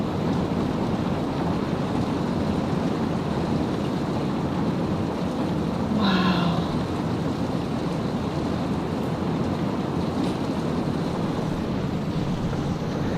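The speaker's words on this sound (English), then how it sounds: "It is just pouring." Heavy rain pours down during a thunderstorm under a tornado watch, a loud, steady roaring hiss close by, with a brief exclaimed voice partway through.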